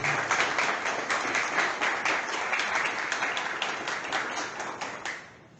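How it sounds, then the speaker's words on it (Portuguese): An audience at a Umbanda week event in São Gonçalo applauds a city councillor, with dense, steady clapping from many hands that fades out at the end. "eu pedi a vocês uma salva de palmas para o nosso vereador"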